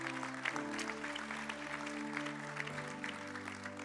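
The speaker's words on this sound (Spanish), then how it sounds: "Damos ese aplauso fuerte." Church audience applauding during a Sunday service, steady clapping at moderate level over sustained organ or keyboard chords that shift partway through.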